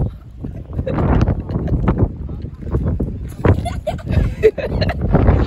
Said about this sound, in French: Mais il y a tellement de vent.